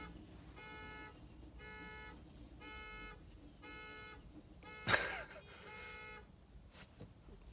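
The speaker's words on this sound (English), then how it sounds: "people honking horns and car alarms going off." A car horn honks in a steady series of short, evenly spaced blasts, like an alarm pattern, with a sharp thump partway through.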